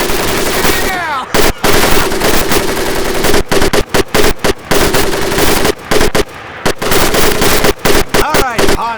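Sustained machine gun fire in the World War II shooter Medal of Honor Pacific Assault, loud rapid bursts broken by short gaps, with shouting voices and battle noise between volleys.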